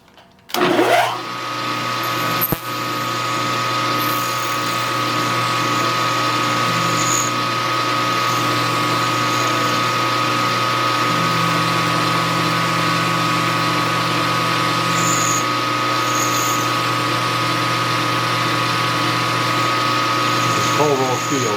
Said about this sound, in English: Now, first I'll mill the junk off the top